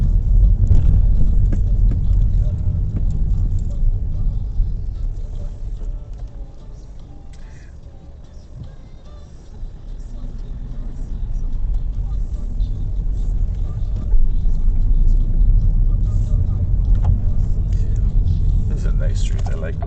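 A car driving through residential streets in Amersfoort, heard from inside as a low continuous engine and road rumble that dips and swells, with a voice talking over it.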